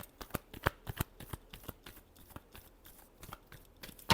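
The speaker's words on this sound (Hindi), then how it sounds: "Last shuffle." Tarot cards are shuffled by hand in a quick series of sharp riffling snaps and flutters, close and dry, with no voice.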